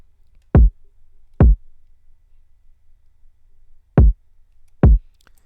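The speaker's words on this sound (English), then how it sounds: "this is how the kick sounds like" A drill beat kick drum sample from FL Studio hits four times alone, in two pairs separated by a pause. Each hit is a loud, deep, booming thump with a short decay.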